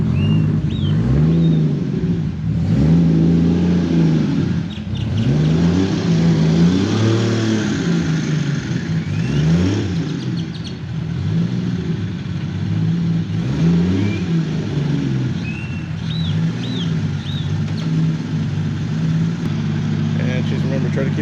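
A 1000HP Toyota Supra in a driveway burnout, its engine droning loud and steady with rising and falling revs in repeated swells, voices faintly underneath.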